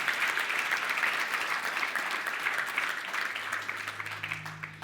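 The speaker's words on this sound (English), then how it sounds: "give yourself a round of applause" A keynote audience at a conference breaks into sustained applause, a dense, even roar of many hands that stays loud throughout and begins to thin slightly near the end.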